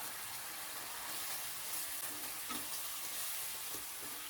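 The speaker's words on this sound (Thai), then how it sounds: "ผัดอีกสักเล็กน้อย แล้วก็ใส่ใบมะกรูดฉีกตามลงไปด้วยครับ" Canned fish and torn kaffir lime leaves stir-frying in a wok for a Thai spicy stir-fry, a steady close sizzle with occasional scraping stirs throughout, no talking.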